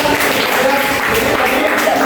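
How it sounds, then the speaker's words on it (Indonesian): A classroom of students applauding group 4 after their presentation, a steady dense wash of clapping filling the whole stretch, with some voices mixed in. "iya, tepuk tangan dulu untuk kelompok 4."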